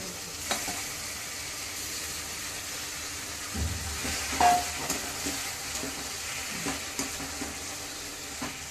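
Chicken frying in a pan for a gongura mutton chicken fry gives a soft, steady sizzle with occasional light stirring clatter, fairly quiet and with no talking.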